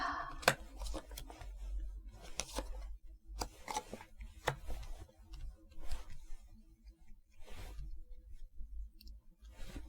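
Tarot cards being handled and turned over during a reading: steady papery slides, flicks and soft snaps of card stock, close and continuous, with rustling bursts spread through the stretch and no voice.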